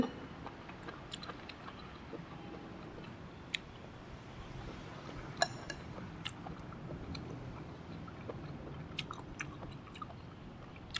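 Close, quiet chewing of crunchy stir-fried oyster mushrooms in oyster sauce, with scattered crisp bites and soft squishy mouth sounds over a low background hum.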